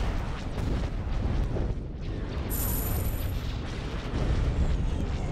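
Artillery fire and explosions in a Star Wars strategy video game, a dense, continuous rumble of booms and blasts with a brief high-pitched whine partway through.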